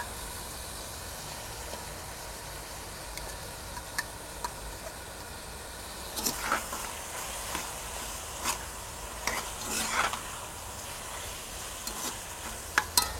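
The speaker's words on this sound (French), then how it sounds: "Je remue le tout. Et j'ajoute de la tomate concentrée." Tomato paste frying in a pot while being stirred, with a steady low sizzle throughout and scraping stir strokes and clicks of the spoon growing busier in the second half.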